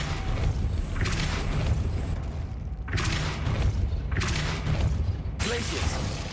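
Depulso spell cast in the video game Hogwarts Legacy, heard as a series of bursts with booming, mechanical textures over a steady low game rumble, with short breaks between them.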